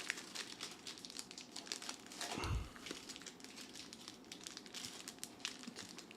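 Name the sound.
trading card packs being opened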